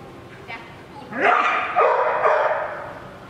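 A dog in a training session gives a short burst of loud, close barks and yips, with a person's voice in the background.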